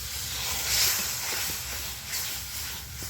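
Water splashed into a hot pan of ground mustard, poppy seed, green chili and cumin paste, producing a loud, steady close sizzle and steamy hiss that swells briefly then holds.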